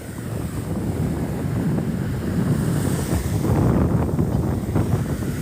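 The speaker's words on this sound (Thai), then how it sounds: "ลมแรงจนนั่งใต้ต้นมะพร้าวดูด้วยนะ" Strong wind gusts across the mic at Bang Saen beach in Chonburi, a steady roaring rumble with surf washing underneath, loud and continuous throughout with no talking.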